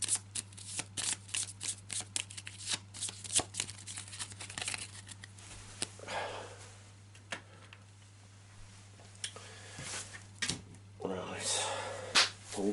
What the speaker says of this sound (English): Shuffle those back in.